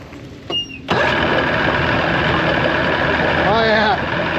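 A Johnson 115 hp outboard engine runs with its airbox fitted, a loud steady drone close by that starts abruptly after a brief sound, with a short squealing whine near the end.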